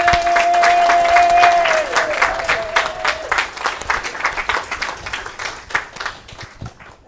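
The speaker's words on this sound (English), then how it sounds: "Can I just ask for a round of applause" Crowd applause at a church divine service, dense clapping that swells then thins out over several seconds, with a faint tone fading early on.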